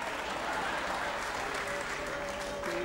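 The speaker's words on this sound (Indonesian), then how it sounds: "kita berikan tepuk tangan untuk dalang wayang boleh Asep Sunaria" An audience at a Javanese ketoprak and wayang golek performance applauds the puppeteer, a sustained, fairly distant wash of crowd clapping with faint stage music tones running underneath.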